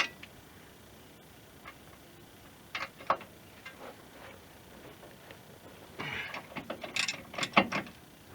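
A ratchet cranks down the CV axle nut on a 1997 Chevy Blazer during a front axle and inner seal replacement, with scattered clicking pawl strokes that build into a faster, louder run of close metallic ticks near the end.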